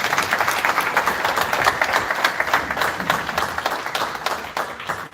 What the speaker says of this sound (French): un très grand applaudissement pour lui